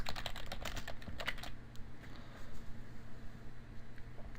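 Quick, light clatter of typing on a computer keyboard for about a second and a half, then near silence with a faint hum.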